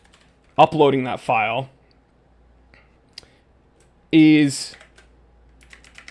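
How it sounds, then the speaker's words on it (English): Soft typing on a computer keyboard, faint scattered clicks under a person talking nearby. "you're going to hear me tip-tap typing away"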